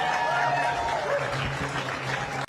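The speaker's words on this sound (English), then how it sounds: "A round of applause for Rav, please" Brief burst of crowd applause, loud and continuous, with a voice speaking over it.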